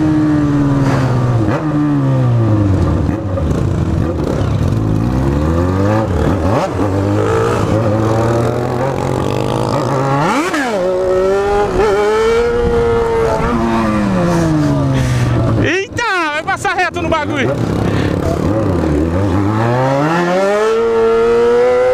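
A Yamaha XJ6 motorcycle revs and accelerates through town streets. The loud, close engine note climbs and falls repeatedly through the gears, with a sharp burst of throttle partway through.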